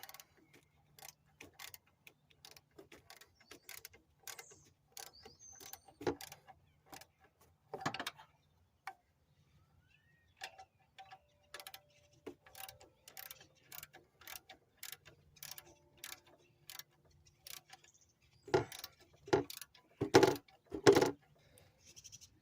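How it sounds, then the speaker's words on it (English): Wrench clicks back and forth as bolts are tightened on the coolant elbows of a 2008 Buick Lacrosse CX with a 3.8 L engine, a quiet run of sharp ratchet-like ticks that turns louder and denser near the end. "you just go back and forth between the bolts, tighten them"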